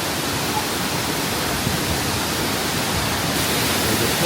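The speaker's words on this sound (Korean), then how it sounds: "이렇게 여기가 이제 수정폭포입니다." Crystal Falls (Sujeong Falls) in Jiuzhaigou, Sichuan, China, roars as a steady, dense rush of falling water, loud and unbroken throughout with no voices over it.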